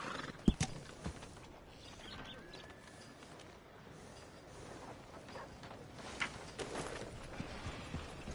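Horse hooves clip-clop at a walk in Red Dead Redemption 2, soft irregular thuds under faint ambient game sound, with a brief neigh.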